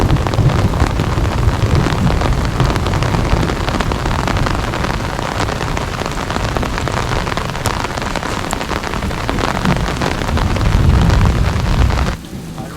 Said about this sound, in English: We are in the midst of a thunderstorm.